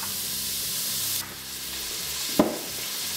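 Chopped onions hitting hot oil in an Instant Pot, a steady close sizzle and hiss with a brief stirring clatter partway through, no talking.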